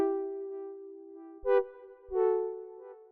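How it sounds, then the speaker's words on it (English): A brassy synth patch, the default sound of the Diva software synthesizer, holds a steady sustained tone, then swells into two brighter stabbed chords near the end, played alone with no talking. "So here's a little brass patch I found on Diva."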